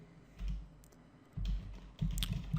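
Quiet keystrokes on a computer keyboard while coding PHP and MySQL, soft clicks and thumps coming in short uneven bursts, with no talking over them.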